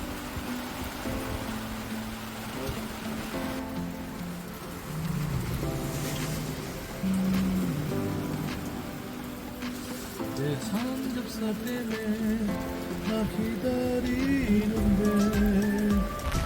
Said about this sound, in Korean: 지금 비가 너무 많이 오고 바람이 너무 불어서 어닝 날아갈까봐 어닝 접고